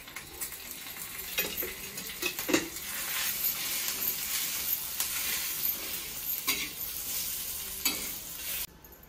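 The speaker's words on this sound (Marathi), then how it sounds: "आता हे कांदा आणि मिरच्या भाजून झाल्या" Onions and green chilies fry in oil for a village-style Nagar chicken kala rassa, a steady close sizzle broken by several scrapes and stirs of a spatula, with no voices, until the sound cuts off abruptly at the end.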